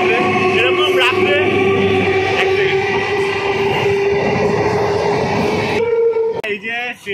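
A train passes loudly and close through an empty rural halt station at night, with continuous wheel and carriage rumble and a long sustained horn tone that fades near the end.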